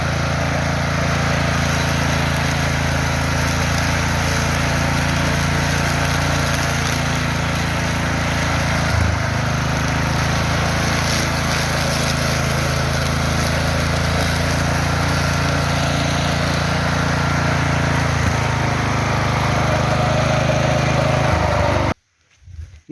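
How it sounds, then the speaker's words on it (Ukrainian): A homemade two-blade lawn mower runs steadily at close range for over twenty seconds, its engine drone unbroken with slight dips in pitch, then cuts off abruptly near the end. "Ну що, косить непогано, але якщо врахувати, що два ножі, всього два ножа"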